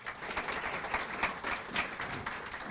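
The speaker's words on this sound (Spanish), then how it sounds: "Este aplauso es para vos." Sustained audience applause at a journalists' panel on education in the media, a steady wash of many hands clapping without pause, fairly even in loudness throughout.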